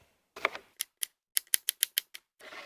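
A knife chops pickle planks into strips on a cutting board, a run of about a dozen sharp, close taps in an uneven rhythm against a quiet background.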